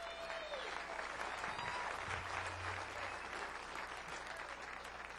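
Steady, loud audience applause with cheering for a guitarist at a live performance, sustained across the whole stretch without a break.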